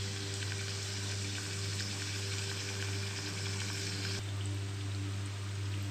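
Wheat flour masala papdi fries in hot oil over a low flame with a soft, even hiss and light bubbling, heard at moderate distance under a faint background hum.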